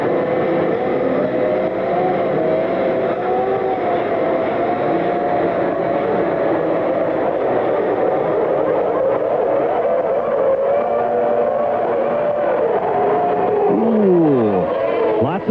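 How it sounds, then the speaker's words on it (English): Formula One cars roar together in a dense, sustained engine wail at the start of the 1992 French Grand Prix, loud and continuous with a rising whine near the end. "Turn up the volume, listen to the engines, enjoy the start."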